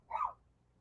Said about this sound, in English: These fucking neighbor dogs. They're right at my window.